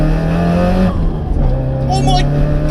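A modified Toyota Starlet GT revs hard accelerating in second gear, a loud steady drone that climbs and shifts in pitch as boost comes on, with tyre noise close by.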